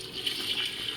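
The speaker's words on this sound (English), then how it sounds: "So this is where we take our cold water" Cold tap water pours steadily into a pot of soaking stew peas, a short, even splashing stream that stays close and alone, with no voices.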